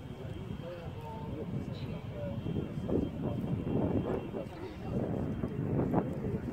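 Airbus A380 jet taking off from Manchester bound for Dubai, heard from a distance as a steady broadband engine roar that swells gradually, with wind buffeting the microphone and people talking nearby.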